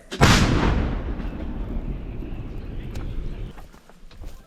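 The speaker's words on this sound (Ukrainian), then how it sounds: "Постріл!" A single loud, booming shot from barrel artillery bursts out near the start, then rumbles and decays for several seconds.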